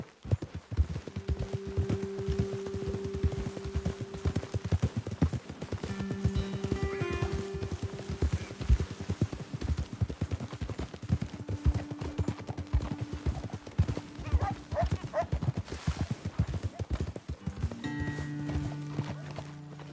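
Steady clip-clop of horse hooves at a riding pace in Red Dead Redemption 2, with occasional snorts and faint whinnies, continuing for a long stretch.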